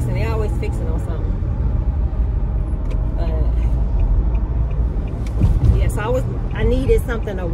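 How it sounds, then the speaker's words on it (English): Expressway traffic rumbles steadily from inside a moving car, a constant low road and engine drone with passing vehicles, while someone talks over it throughout. "It's too much traffic over here."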